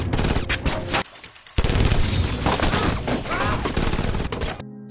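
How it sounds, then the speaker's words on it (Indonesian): A long-barreled gun fires on a house in a film scene, with loud, dense bursts of rapid shots. A brief near-silent pause in the first half is followed by more sustained, heavy firing. "orang misterius itu merubah rencananya dengan senjata laras panjang yang menembaki kediaman Farrell."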